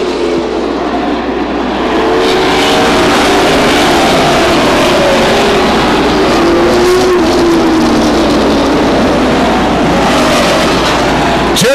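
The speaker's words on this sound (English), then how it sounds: "Jerry Crawford spins Wild Thing, the number zero car, off of turn four" A race car spins off turn four at Stockton 99 Speedway amid loud, continuous engine roar from the track, with shifting engine pitch as cars run nearby.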